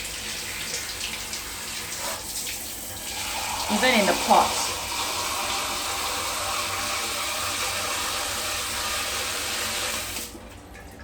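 Water poured into a potted Hoya plant to flush ants and their eggs out of the soil, a steady broadband rush of running water lasting most of the clip with a brief splashier burst midway, while a voice speaks briefly over it.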